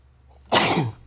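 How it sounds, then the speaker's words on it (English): A single sharp sneeze bursts out close up after a quiet moment, loud and breathy, trailing off within half a second. "of course I had to sneeze right when I was trying to close it out"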